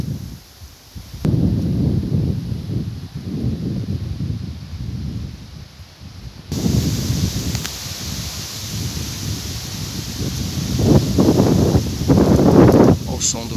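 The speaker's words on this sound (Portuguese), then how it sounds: "Olha o som do vento, ó." Strong, gusty wind tears through trees on a windy day in a Porto Alegre neighborhood. It makes a steady broadband rush with rustling leaves. The wind swells in intensity partway through, and someone speaks over it.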